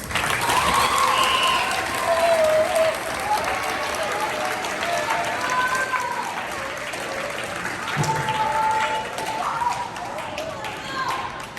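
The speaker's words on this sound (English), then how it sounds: "can you just join me in a round of applause for Mr. Harden?" An eighth grade honors assembly audience gives a round of applause for the absent Mr. Harden, full and sustained clapping that swells and eases over several seconds, with voices mixed in.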